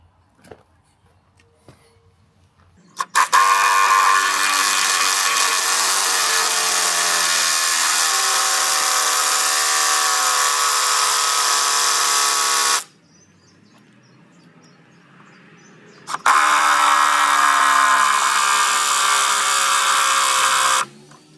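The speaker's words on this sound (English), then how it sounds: "I've got the big drill. Got the impact wrench. I got the little drill." Power tools, a big drill and an impact wrench, run in two long continuous bursts while a cantilevered patio is set up. A loud steady whine holds for about ten seconds, pauses, then starts again, with no talk.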